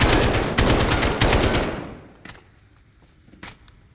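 Rapid automatic AK rifle fire in Call of Duty: Modern Warfare (2019), a loud, close burst of dense shots that cuts off after about two seconds, followed by a few scattered single shots and echoing tails.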